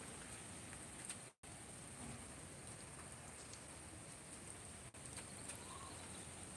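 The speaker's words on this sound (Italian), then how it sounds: "Da stamattina che piove e non la vuole finire" Steady rain falls through a spell of persistent bad weather, a dense continuous hiss of drops on surfaces that stays even and close throughout, with two brief dropouts and no voices.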